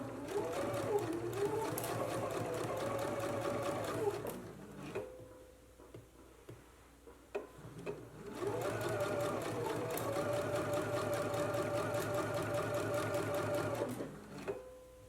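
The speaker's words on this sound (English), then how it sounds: "Once you have your dart pinned in place, we'll go to the sewing machine." Domestic sewing machine stitching a dart in a garment, running in two steady rapid bursts of about four and six seconds with a quieter pause between, close and clear.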